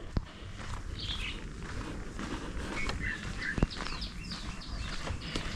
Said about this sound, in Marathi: चिमण्यांचा आवाज येतो.